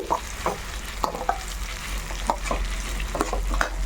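Curry leaves frying in oil on a medium flame while being prepared for karapodi, a continuous close sizzle broken by repeated scraping stirs, loud and without talk.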